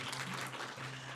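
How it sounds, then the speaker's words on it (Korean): An audience at a children's policy proposal contest in Dongdaemun applauds to welcome a speaker, a brief, even wash of clapping with a low hum underneath. "여러분 힘찬 박수로 환영 부탁드리겠습니다."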